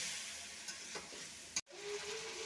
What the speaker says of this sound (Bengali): মশলাটা ভালো করে একটু কষিয়ে নেব